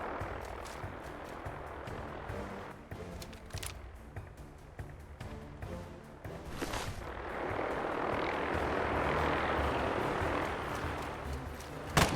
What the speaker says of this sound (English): Is it an enclave vertibird?